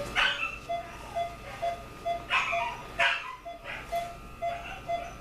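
A neutered mini Australian Shepherd, just out of surgery, yips and barks repeatedly in short bursts, some high whining tones between them, fairly close and moderately loud.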